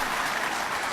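Applause from the audience at a large peace consultative assembly (loya jirga), a broad continuous wash of clapping that stays steady and fairly loud throughout, with no talk over it.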